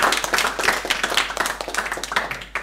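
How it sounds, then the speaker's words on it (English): Audience applause at the end of a TouchDesigner roundtable: a dense, steady patter of many hands clapping close by for a few seconds. "And of course, the applause was for Wieland, who was behind the scenes pulling t"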